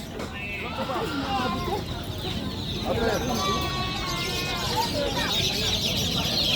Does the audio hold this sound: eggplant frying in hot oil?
no